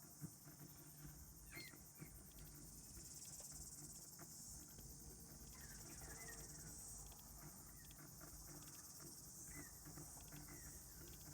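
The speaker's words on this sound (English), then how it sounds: "I just hear all of this noise very close to the pull-up bar. And what do you know? It's a cicada hanging on" A cicada hangs close to a pull-up bar outdoors, giving a steady, faint, continuous insect drone with a high hiss that runs alone for the whole stretch.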